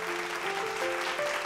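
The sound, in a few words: audience applause for contestant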